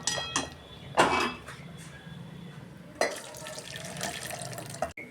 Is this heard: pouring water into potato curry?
yes